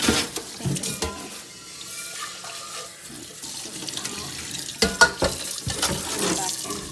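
Tap water runs and splashes over hominy corn being rinsed in a sink, with bursts of gushing and sloshing as the kernels are stirred and handled, loud and close.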